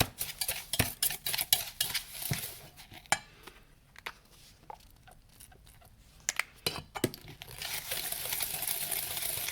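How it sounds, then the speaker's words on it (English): A homemade sugar scrub is mixed in a jar with a utensil, giving close, irregular scraping and clinking strokes that come in bursts with quieter gaps between them. "And just mix it."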